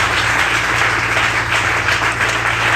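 A church congregation at a Sunday worship service applauding together, a dense, steady wash of clapping that carries through without a break, with faint voices beneath it.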